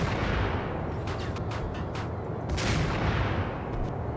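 Sniper rifle gunshots from the video game Max Payne, a few sharp cracks standing out over a dense, continuous rumble of game noise, fairly loud and with no talking.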